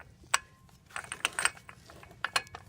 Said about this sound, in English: I'm going to put my 36 millimeter socket. I don't have an impact one like this, but I'm going to use my breaker bar.